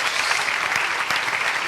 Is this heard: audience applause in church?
yes